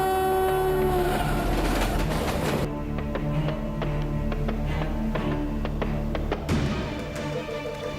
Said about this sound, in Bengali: আরে বাপরে, ট্রেন আসছে ভাই।